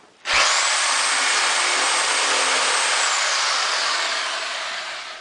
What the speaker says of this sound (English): So I could use a reciprocating saw.